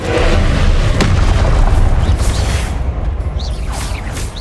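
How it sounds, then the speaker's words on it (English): Confringo fire spell blasting in Hogwarts Legacy: a loud, close booming explosion that bursts at once then rolls off with crackling whooshes over a few seconds, no talking. "Confringo!"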